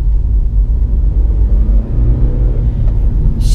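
A 2017 Lexus CT200h hybrid accelerating in sport mode, heard from inside as a steady low engine and road rumble that holds fairly even and loud throughout, with no talking.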